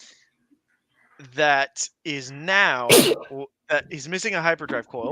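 A single sharp sneeze bursts out mid-conversation, loud and close, between stretches of people talking.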